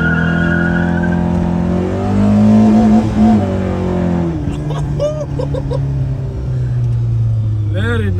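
A VW MK1 with a 1.4 engine and 272 cam revving loudly from inside the car, the engine note climbing and falling in harmonic sweeps before settling to a steady drone, with someone talking over it.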